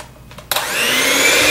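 An electric mixer starts abruptly and then whirs steadily and loudly up close as it beats butter, sugar and vanilla together for sugar cookie dough.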